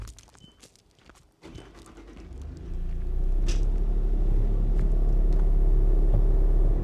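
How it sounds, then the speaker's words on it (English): A Bobcat machine with a 74 hp four-cylinder turbo diesel engine starts with a few clunks and knocks, then settles into a loud, steady, low idling rumble close by. "this machine is a 74 horsepower, 74 horse, 4-cylinder turbo diesel engine."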